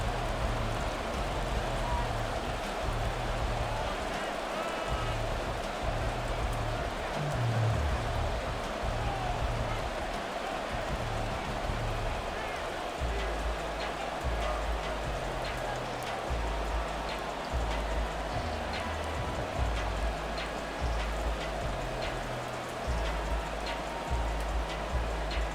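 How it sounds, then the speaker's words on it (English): Steady rain falls on the field in a Madden 24 American football game between the Chicago Bears and Philadelphia Eagles, a continuous hiss running throughout beneath low crowd and game ambience. "The rain set to continue as we are underway"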